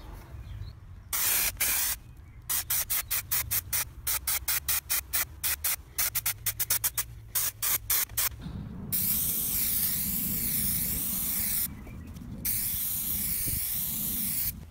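Trim Fix adhesive is sprayed inside a Mercedes Sprinter van, first as rapid short hissing bursts, then as longer sustained sprays close to the can.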